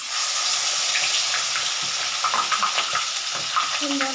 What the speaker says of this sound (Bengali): এবার আমি কড়াইতে আস্তে আস্তে দেব, হাতা করে আস্তে আস্তে দিচ্ছি।